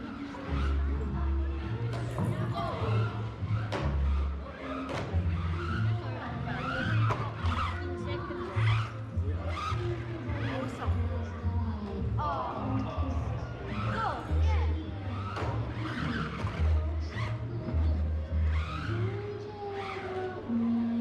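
A Tamiya Dancing Rider RC car laps a racing track, its motor giving a steady whine with occasional tire squeal, mixed with other track noise and background sound throughout.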